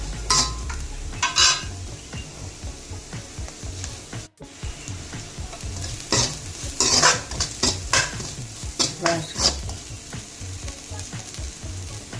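Grated coconut frying in a pan for carrot thoran, a continuous sizzle under repeated scraping stirs of a spoon against the pan, close and fairly loud, with a brief break partway through.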